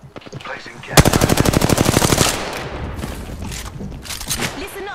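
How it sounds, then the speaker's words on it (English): Automatic gunfire in a video game is aimed at the player: a loud, close burst of about twenty rapid shots, then scattered, fainter shots and impacts trailing off. "Listen up, I'm getting shot at."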